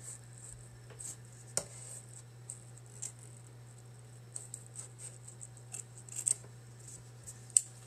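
Excess material is trimmed from a craft sign with scissors or a cutting tool, giving sparse, close snips and small clicks over a steady low hum, with no talk.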